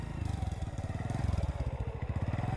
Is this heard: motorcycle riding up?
yes